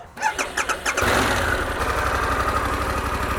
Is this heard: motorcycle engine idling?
yes